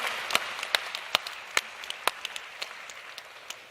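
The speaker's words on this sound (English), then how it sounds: "Please give a huge round of applause to Stefan and Shelf Engine." Audience at a pitch competition final applauding, with steady clapping from a crowd and a few sharper, louder claps standing out near the listener throughout.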